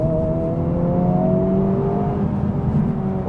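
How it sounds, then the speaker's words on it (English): A 2023 Honda Civic Type R accelerating hard at full throttle in third gear, a steady, loud interior engine drone with rising harmonic tones held throughout, no talk over it. "I'll floor it in third"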